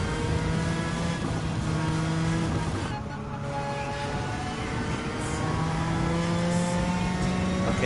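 Rally cars, including a Peugeot 205 Evolution 2, race in Gran Turismo 7, with steady engine drone and harmonic revving that dips briefly mid-race before climbing back, loud and continuous with faint tire noise.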